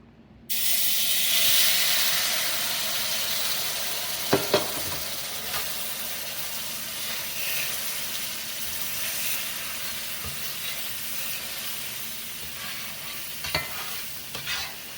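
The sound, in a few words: roux with broth sizzling and being stirred in skillet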